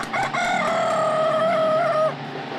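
A rooster crows once, a long loud cock-a-doodle-doo rising and holding before cutting off, layered into a song with other sounds behind it.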